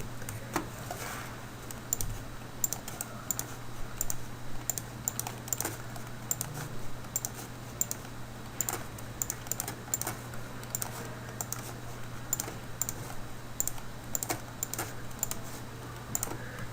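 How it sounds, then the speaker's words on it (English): Numbers being typed into a calculator, a long run of quick, light key taps in an irregular rhythm, close and fairly quiet over a steady low hum. "I'm just going to type those in the calculator"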